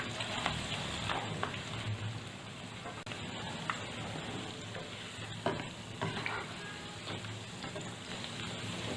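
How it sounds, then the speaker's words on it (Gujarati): Methi muthiya, fenugreek dumplings, frying in hot oil over a medium flame, giving a steady close sizzle with light stirring clinks, no talking. "મૂઠિયાને આપણે મીડિયમ ફ્લેમ પર તળવાના છે."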